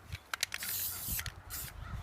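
A spray gun lays a heavier second coat of paint onto C10 truck rims: short hissing bursts, then a long sustained spray, close and fairly loud, with no talking.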